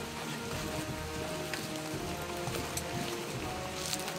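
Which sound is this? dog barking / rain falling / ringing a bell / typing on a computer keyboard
rain falling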